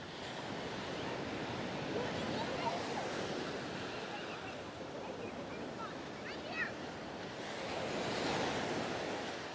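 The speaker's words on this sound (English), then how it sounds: "So this is the public beach." Surf rolls in continuously on Sunny Isles public beach under a cloudy sky, a steady washing roar with gentle swells, heard from nearby with a light breeze and faint voices mixed in.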